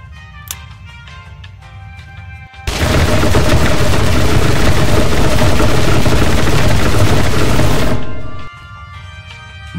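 Rapid gunfire in the People Playground video game, a dense, loud, unbroken barrage of shots lasting about five seconds, framed by quieter background music before and after.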